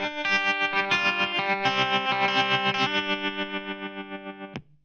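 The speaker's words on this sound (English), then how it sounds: "About 2 minutes in, you hear the guitar play that. It's got lots of tremolo on." Electric guitar soaked in heavy tremolo plays a guitar break, the sustained chords pulsing in quick, even throbs before cutting off abruptly near the end.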